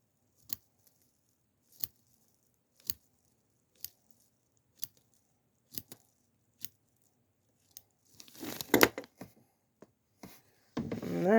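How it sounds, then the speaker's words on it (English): Scissors snip through fly-tying material at an angle in about nine sharp, evenly spaced cuts, close and alone, followed by brief rustling handling of the material and a louder rubbing at the end. "Instead of cutting straight, cut at an angle."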